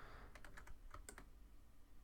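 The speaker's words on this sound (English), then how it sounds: "hold the Control key on my keyboard" Several quick keystrokes on a computer keyboard, clustered in a brief burst of tapping, close and clear over a low background hum with no talking.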